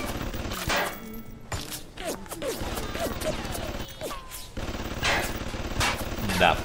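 Bursts of automatic gunfire from turrets and weapons in the video game BioShock crackle in rapid volleys with sharp impacts, separated by brief lulls, under the gameplay audio.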